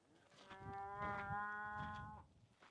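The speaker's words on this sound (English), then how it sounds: "Look at them nosy cows." Cattle grazing on a ranch moo nearby, a long drawn-out bellow with overlapping lowing calls, loud and close with no talk over them.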